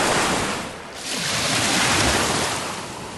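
Waves wash onto the shore at Rocky Gap, a broad roaring rush that dips briefly and then surges again, mixed with wind buffeting the microphone and no voices.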